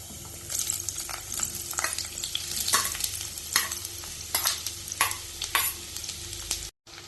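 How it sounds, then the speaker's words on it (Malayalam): Pineapple pieces tossed with ginger, green chilli and curry leaves sizzle in a pan for pickle, close and steady, while a spoon stirs and scrapes in repeated bursts; sound cuts out briefly near the end. "ഇത് കുറച്ച് സമയം ഇളക്കി വഴറ്റാം"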